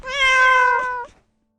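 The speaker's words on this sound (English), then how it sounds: "Thank you for the meow, Wrath." A single cat meow, clear and close, rising slightly then trailing off after about a second, followed by silence.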